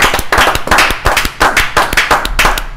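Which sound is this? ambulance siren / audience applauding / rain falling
audience applauding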